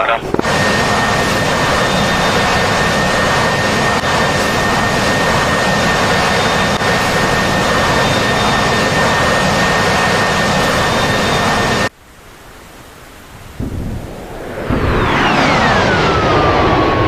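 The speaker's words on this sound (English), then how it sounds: "There's an aircraft just moving over the top of the mountains, right to the left." Jet aircraft in DCS World passing over mountains, a loud steady engine roar with a high whine that cuts off abruptly and then returns as a descending pitch sweep; voices speak over part of it.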